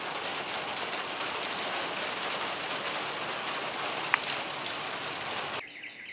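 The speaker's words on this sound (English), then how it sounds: "And here comes the rain." Steady rain falls during a summer thunderstorm, a dense even hiss heard outdoors at moderate level for several seconds, with one brief sharp tick before the sound suddenly thins out at the end.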